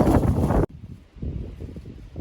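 Strong outdoor wind gusting beside a Blackstone griddle, a loud buffeting roar at first that cuts off abruptly, then lower, uneven rumbling gusts continuing to the end.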